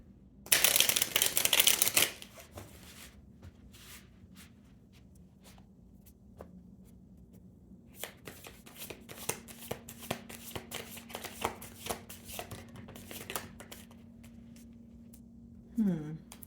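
Oracle and tarot cards are shuffled close by: a brisk riffling burst at the start, then softer scattered card slaps and flicks with pauses, ending in a short rustle.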